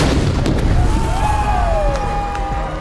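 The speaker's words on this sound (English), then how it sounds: "Jimmy's gonna trigger the big bomb." Large pyrotechnic bomb going off at a fireworks and explosions show, a loud deep booming rumble with crackling and whistling trails, close and continuous.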